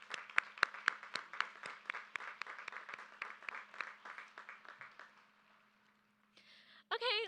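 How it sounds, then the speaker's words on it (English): Applause for teachers at a high school graduation ceremony: a crowd claps steadily for about five seconds, then the clapping thins and fades out, with a brief noisy burst near the end. "Please join me in applauding them."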